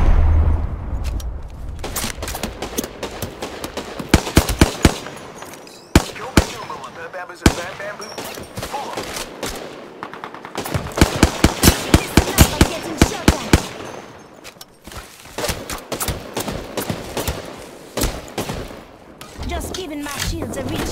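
Rapid bursts of automatic gunfire and single shots in the battle royale game Apex Legends, loud and close, clustered in dense volleys between quieter stretches, with a voice talking over the action and game sounds.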